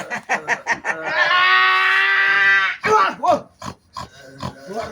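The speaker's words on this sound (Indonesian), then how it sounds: "Sepertinya suara babi itu yang dimasukkan oleh Madatuk ke dalam tubuhnya" A pig from a folk tale of a cursed ngepet pig gives loud, close grunts followed by a long, high, drawn-out squeal, then more choppy grunting snorts.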